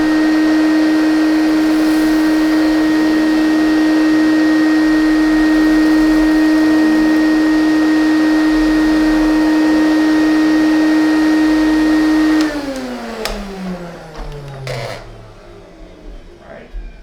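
A Lindhaus HF6 vacuum cleaner runs with a loud, steady motor whine close by, then switches off near the end and its motor audibly spins down over a few seconds.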